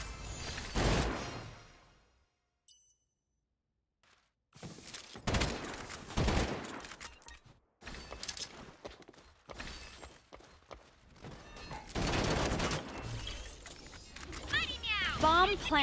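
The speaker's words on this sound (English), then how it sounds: "We're shooting the shit out of them." Bursts of gunfire in the Strinova shooter game, loud and intermittent, broken by a brief silent gap, with people talking over the shots throughout.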